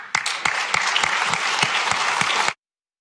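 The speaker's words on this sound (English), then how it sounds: "why are people cheering for that?" A crowd applauds a Democratic senator's remark about opposing a corporate income tax rise, a dense burst of clapping at steady strength that cuts off abruptly into silence.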